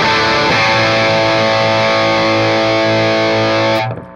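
Electric guitar through a Caroline Shigeharu fuzz pedal with its knobs at noon sounds out a thick, saturated sustained chord, loud and buzzy, holding for nearly four seconds before cutting off.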